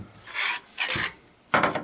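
The forend and bolt of a Remington 870 shotgun slide forward in three short, close metallic rasps, separated by brief pauses.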